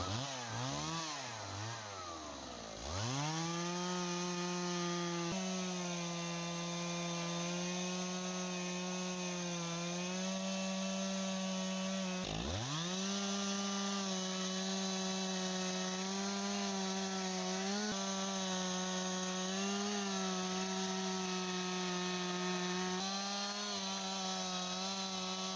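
A chainsaw cuts steadily through stacked pine sawmill slabs, its engine revving up after a brief idle and then holding a loud, continuous cutting whine with two short dips as it re-bites.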